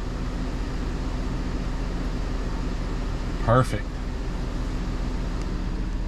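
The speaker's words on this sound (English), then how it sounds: "Look how good it's idling now." A 5.3L V8 engine idles steadily with a fresh throttle body installed, a continuous low rumble running evenly throughout, with a brief spoken word near the middle.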